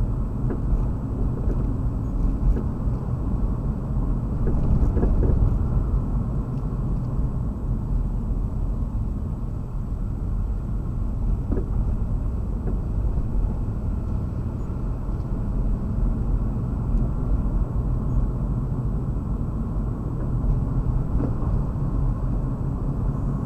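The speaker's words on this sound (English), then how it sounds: "Looks like traffic's coming through" Road traffic rolls past in the Camden area of Maine as a continuous loud low rumble of engines and tires, steady for over twenty seconds with no distinct pauses.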